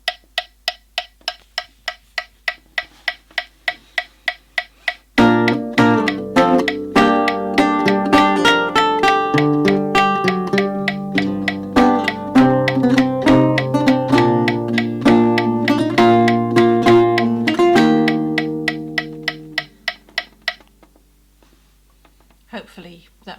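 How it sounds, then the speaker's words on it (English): A steady metronome click ticks alone for five seconds, then a lute joins with plucked notes and chords over the continuing clicks, before the lute fades and the clicking carries on faintly at the end. "play them with a metronome click"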